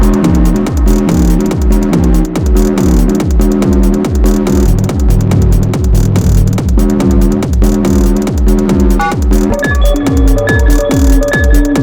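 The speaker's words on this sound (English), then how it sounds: "I like the general, like, clean sine wave tone of this thing." A Joranalogue Collide 4 synth module plays clean, sine-like tones in a steady, loud rhythmic sequence of repeating plucked pulses with a low throb underneath, and a few higher sustained tones join near the end. No voices are heard.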